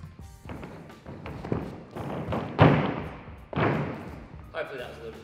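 A gymnast's tumbling run on a floor sounds as a string of dull thumps and footfalls building to a heavier landing thud, followed by a few softer impacts.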